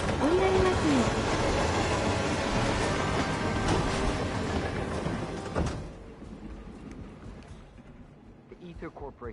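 A train rolls along the tracks in the video game Hitman 3, a steady loud rumbling clatter that fades away after about six seconds into quieter ambience, with a brief voice near the start.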